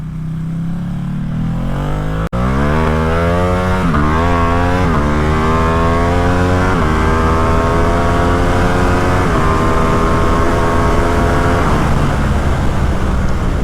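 A Ducati Streetfighter with an Arrow exhaust and no silencer makes a full throttle pull from 60 to 130, loud and close. The engine roars and climbs steadily in pitch through several gear shifts, each a brief dip before the rising note resumes.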